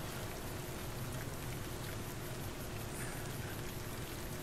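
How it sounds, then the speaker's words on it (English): Steady rain in Fallout: New Vegas, Honest Hearts hisses evenly throughout, a dense wash of falling drops with no pauses or other sounds rising above it. "It's raining."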